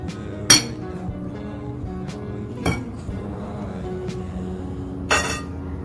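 A spoon stirs spinach pakora batter in a bowl, with a faint soft background and three sharp clinks against the bowl spaced a couple of seconds apart.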